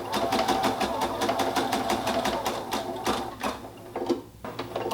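Sewing machine backstitching a baby hat band, a steady rapid stitching that runs close and continuous, then slows and stutters briefly toward the end.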